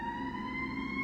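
A siren holds a steady, sustained wail at low level, distant and faint, with no talking over it.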